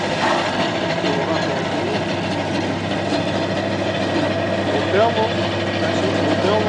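Motors driving a large high-power HF rotating directional antenna hum steadily with a low mechanical drone, continuous and close, while someone talks over it throughout.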